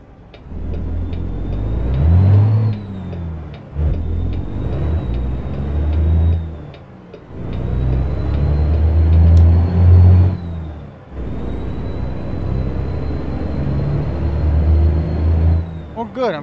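A Kenworth T650 truck hauling cattle in American Truck Simulator, its engine droning and revving in rising and falling waves with a steady high whine and short pauses between gear changes, continuing for about sixteen seconds.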